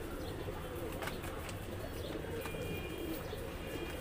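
A pair of Deobandi pigeons coos quietly after release, with soft, low calls and faint chirps over a steady outdoor background.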